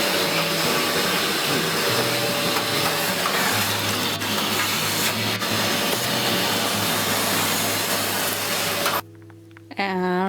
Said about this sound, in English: And the vacuum is ready now, and you will see it works.